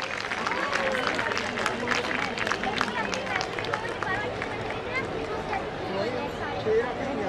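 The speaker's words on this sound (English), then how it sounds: "Audience, a huge round of applause, please." Audience applause and crowd noise fill a school founder day hall, a steady wash of clapping with murmured chatter mixed in, moderately loud throughout.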